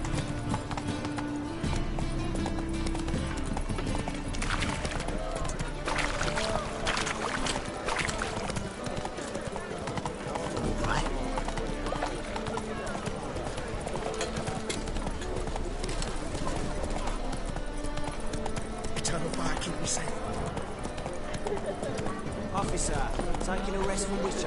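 Geralt's horse Roach clip-clops along at a steady gallop through a city in The Witcher 3, the rhythmic hoofbeats running continuously under game music, ambient bustle and spoken dialogue.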